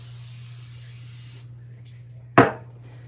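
Cooking oil sprayed into a bowl in a kitchen: a single short, sharp hiss of spray, close and loud, after a low steady background hum.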